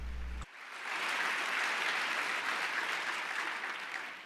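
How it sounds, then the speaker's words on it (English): A crowd of listeners at a live talk show breaks into sustained applause, a dense, even wash of clapping that holds steady for several seconds before slowly thinning. "All the victims in the crowd clap."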